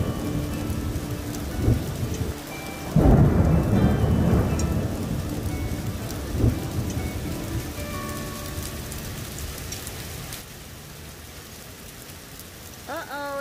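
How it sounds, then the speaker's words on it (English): A hailstorm with thunder during a full moon storm in March: steady drumming of hail and rain throughout, with a loud rumble of thunder early on and fainter rolls later, close and continuous. "It's hailing."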